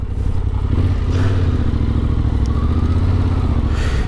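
A 2021 Yamaha Tenere 700 motorcycle engine runs loud and close, a continuous throaty rumble with slight swells in pitch, heavy wind-like noise across the whole clip.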